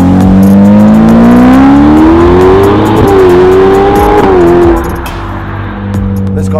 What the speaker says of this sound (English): This car is fitted with sport cats and, of course, with a Novitec rear muffler.